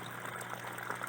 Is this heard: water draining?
yes